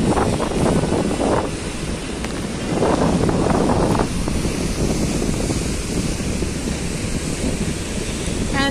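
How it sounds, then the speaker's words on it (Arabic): Strong sea wind and high waves batter the Alexandria shoreline during Storm Daniel, a loud, continuous roar of gusts buffeting the microphone over crashing surf. "سامعين صوت الهواء؟"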